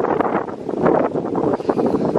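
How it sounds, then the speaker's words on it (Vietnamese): Strong outdoor wind in a highland rural area gusts steadily and loudly across the microphone with a constant roar and no break, leaves rustling faintly beneath it. "Đấy, các bạn thấy chưa, hôm nay gió to chưa?"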